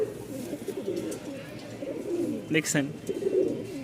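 A white Lakka fantail pigeon in full breeding mode coos nearby in low repeated rumbling calls, with someone talking over it and brief clattering in the background.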